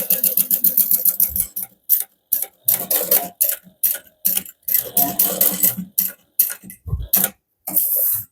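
A sewing machine runs a basting stitch on a hobo bag in short, rapid pulses with brief gaps, giving a ticking, stop-start mechanical chatter close by.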